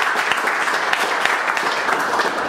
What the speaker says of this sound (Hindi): दूसरे दिन ही एक बार एमडी सर के लिए ताली बजाएंगे आप लोग।